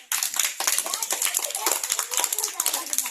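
Children clapping loudly in a classroom during a general-knowledge quiz, a dense burst of quick hand claps from a group, close and loud, with a voice talking over part of it.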